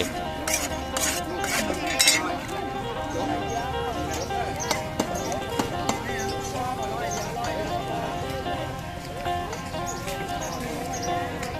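Metal utensil scraping and clinking in a pan as a vendor roasts food at a fish market stall in Khueang Nai, Ubon Ratchathani, with steady market bustle and voices talking throughout.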